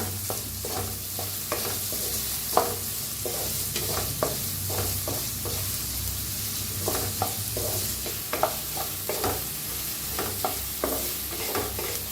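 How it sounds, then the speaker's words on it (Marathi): Onions and green chillies frying in hot oil, a continuous sizzle broken by repeated spatula scrapes and stirring knocks at an irregular rhythm, close and fairly loud with no voices. "छान असं भाजूया कांदा"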